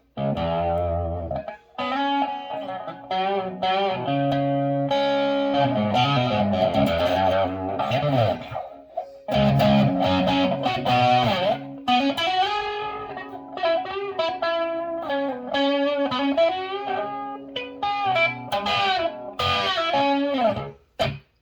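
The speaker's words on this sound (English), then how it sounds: "you're kind of getting that hair metal rhythm tone, just really thick and fat" A Peavey Rockmaster guitar preamp on its ultra gain distortion setting plays thick, heavily saturated rhythm chords and riffs, loud and dense, with brief pauses between phrases and no talking.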